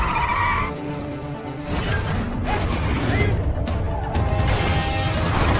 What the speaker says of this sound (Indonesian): Hingga akhirnya mobil mereka tabrakan